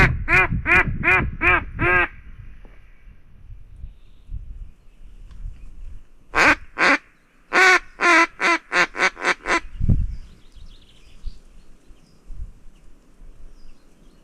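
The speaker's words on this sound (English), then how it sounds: "a drake was responding from that side, quacking" Drake duck quacking from across a wilderness river, a fast run of five loud nasal quacks, then a pause and another rapid burst of quacks, clear against a quiet outdoor background.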